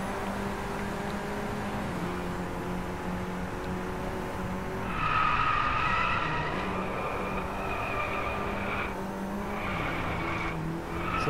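A racing car in the video game Driveclub accelerates with a steady engine roar, then its tires squeal in a sustained skid through a corner, loud and continuous.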